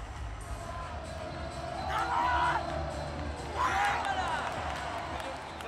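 A crowd cheers a Paralympic gold medal win at Paris 2024, two swelling waves of shouts and whoops rising over steady stadium hubbub, moderately distant, with a commentator talking over it.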